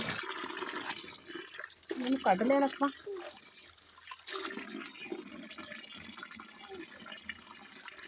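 Hot water splashes and pours while very dirty kitchen cloths are washed by hand, with brief gurgling bursts and quieter trickles. Someone talks over the sound.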